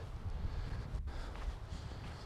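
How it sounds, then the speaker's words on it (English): Wind blowing outdoors near trees, caught on a wireless lavalier microphone far from the camera: a steady low rumble and buffeting that fills the background evenly throughout, with no voices. "There's wind."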